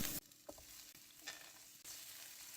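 Cashews, almonds and mixed vegetables roasting in oil in a pan give a steady, soft sizzle with a few stirring scrapes and brief louder bursts throughout.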